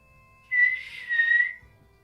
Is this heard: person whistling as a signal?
yes